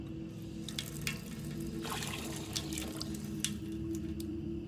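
Tap water runs into a sink while a wound is rinsed under it, a soft continuous trickle close by, broken by small irregular splashes and drips over several seconds.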